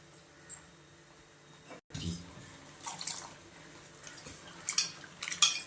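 Small onions being washed by hand in a pot of water for a traditional millet porridge meal, with soft drips, splashes and light clinks of the pot rising toward the end.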